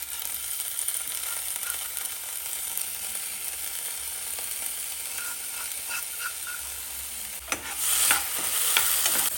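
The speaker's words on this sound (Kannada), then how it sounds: "ನೆನೆಸಿಟ್ಕೊಂಡಿರೋ ಅಕ್ಕಿಯನ್ನು ಅದೇ ಪ್ಯಾನಿಗೆ ಹಾಕಿ 5 ನಿಮಿಷ ಚೆನ್ನಾಗಿ ಹುರ್ಕೊಳ್ಳೋಣ." Soaked rice is stirred and roasted in a pan for rice kheer, giving a steady scraping stir over a soft sizzle that grows louder and busier near the end, with no voices.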